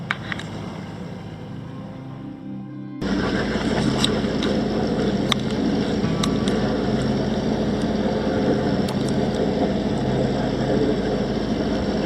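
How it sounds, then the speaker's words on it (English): A sailing yacht motors under engine power across calm open sea with no wind, the engine's steady drone and rushing water starting abruptly and continuing loud and even after a few quieter seconds. "We're under engine since an hour."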